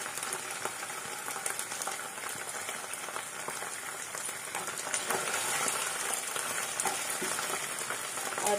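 Ginger garlic paste frying in a pan for soya keema with vegetables, a dense continuous crackling sizzle close up with soft stirring underneath, steady throughout.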